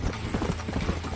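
Horse hooves gallop at speed in Red Dead Redemption, a rapid, steady clip-clop rhythm that runs loud and close throughout the short stretch.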